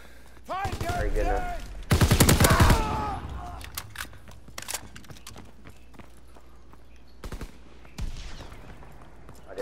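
Gunfire in the World War II shooter game Call of Duty: WWII, with bursts of rapid shots and loud blasts early on, then scattered sharper cracks and booms at a distance, mixed with game sounds.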